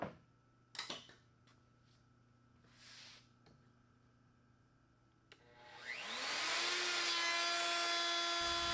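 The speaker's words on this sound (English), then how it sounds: "then I can come in with a flush trimming bit on my router, use my jig, and just trim that up" A router with a flush trimming bit spins up and cuts wood along a jig while building a floating desk, following a few sharp taps and shuffles; the rising whine becomes a loud, steady high-pitched cutting roar.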